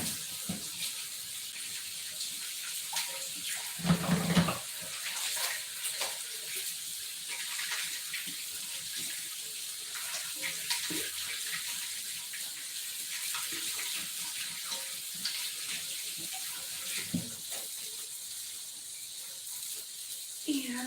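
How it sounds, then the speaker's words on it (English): A kitchen tap runs steadily while hands are washed, a continuous close hiss of water with a few brief splashes and clunks, and faint background voices. "let me wash my hands"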